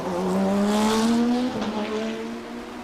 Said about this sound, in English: There's the green, and we are racing here at Road Atlanta.